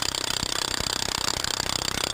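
A core drill cuts into a concrete curb, making a loud, gritty grinding with a rapid, pulsing rattle that keeps going without a break.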